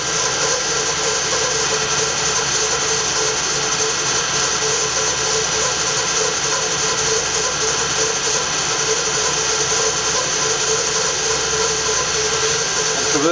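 A power tool runs continuously and loudly while plunge-cutting a mortise in a wooden cannon wheel, a steady whining motor drone with a little grinding texture and no change in pace.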